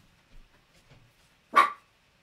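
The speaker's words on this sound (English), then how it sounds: "If you've got some fur babies watching, Maisie can hear Buffy upstairs" A single sharp dog bark sounds indoors from a distance, as if from upstairs, standing out loudly against an otherwise quiet room with only faint background shuffles.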